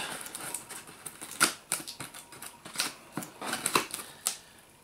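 Packing tape being picked and peeled off a Google Home speaker box: a string of irregular close clicks, ticks and crinkles, light and dry.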